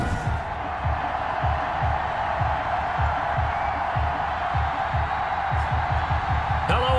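Broad, steady roar of an NFL stadium crowd before a Carolina Panthers vs Atlanta Falcons game, constant and dense, with a rhythmic low thumping pulse underneath.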